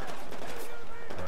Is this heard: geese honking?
no